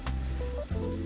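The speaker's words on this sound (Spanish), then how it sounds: "coloqué los medalloncitos que se van a ir cocinando aquí en mi sartén" Pork medallions fry in a skillet with a steady, close hiss of sizzling fat and no talking.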